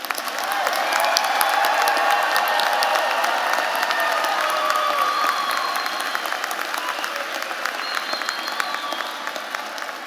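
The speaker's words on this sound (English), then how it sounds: "give all of the graduates one more round of applause" An audience at a university commencement ceremony applauds the graduates with steady, dense clapping and a few scattered cheers, sustained throughout and easing slightly toward the end.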